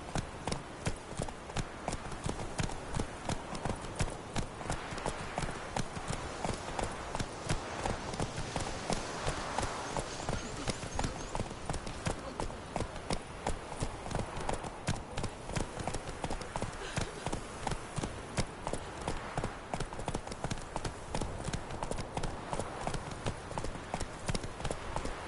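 Horse hooves clip-clop steadily in The Witcher 3: Wild Hunt, a continuous, even rhythm of trotting hoofbeats with faint background ambience.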